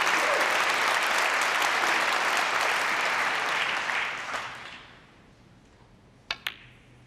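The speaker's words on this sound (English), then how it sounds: "Round of applause from the crowd." Applause from a snooker crowd at the 2016 Welsh Open quarter-final, steady and dense for about four seconds, then fading away, with a couple of sharp knocks near the end.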